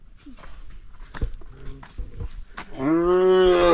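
A few soft knocks and rustles, then a cow lets out one long, loud, close moo that fills the end.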